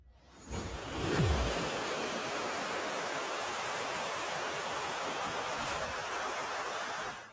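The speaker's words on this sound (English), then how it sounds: "a massive wave suddenly rises and crashes down with incredible force" A powerful rush of flash-flood water in eastern Taiwan surges up and then roars steadily, a dense continuous crashing wash with no voices.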